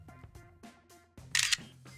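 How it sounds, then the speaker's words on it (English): An LG Optimus G smartphone gives a short, bright shutter click, preceded by soft taps and faint background music. "I just snapped a photo without even touching Optimus G."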